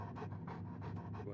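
A wolf in Oblivion Remastered pants in quick, rhythmic bursts, a close, soft, breathy huffing repeated several times.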